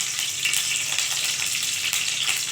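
Bay leaves frying in hot mustard oil in a wok for a vegetable dalia khichuri, giving a steady, close, bright crackling sizzle that holds evenly throughout with no talk.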